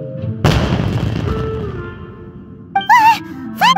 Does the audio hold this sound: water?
no